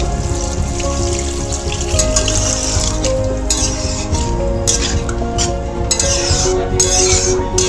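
Water is poured into a cooking pot holding bottle gourd for a milk-based dudh lau dish, a continuous close splashing and pattering with light metallic clinks from the pot, no talking.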